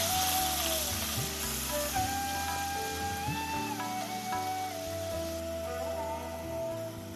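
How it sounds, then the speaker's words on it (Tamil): Onion, tomato and green chili sauté in oil for a spicy mutton gravy, making a steady hiss of frying that sits beneath background music for the whole stretch. "பச்சை மிளகாய் இதெல்லாம் போட்டு நல்லா வதக்கிக்கோங்க."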